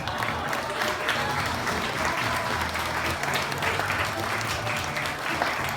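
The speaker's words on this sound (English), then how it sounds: "let's give him a big round of applause" Wedding guests break into a long, steady round of applause at a reception, a full, sustained patter of many hands with a few faint voices mixed in.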